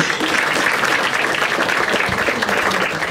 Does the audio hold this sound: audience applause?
yes